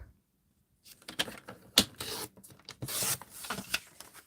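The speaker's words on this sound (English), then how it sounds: "we're just going to trim this off over here" Paper being trimmed by hand with a paper trimmer while making a camper-themed journal, a short run of close scraping and rasping strokes with a sharp snap partway through, after a brief silence, with no talking.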